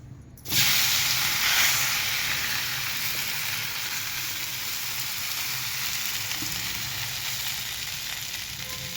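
Thalipeeth batter hitting a hot greased griddle sets off a loud, steady sizzle that starts abruptly and keeps hissing evenly throughout, close and alone.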